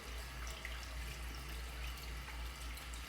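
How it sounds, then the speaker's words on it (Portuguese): Tap water runs steadily into a sink while hands are rinsed, a soft, continuous splashing hiss with a low background hum. "Agora enxague as mãos."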